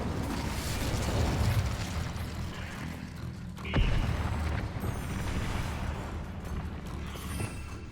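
Incendio fire spell cast in Hogwarts Legacy, a dense roaring burst of flame with crackling and whooshing noise, a sharp pop near the middle, over busy game sounds.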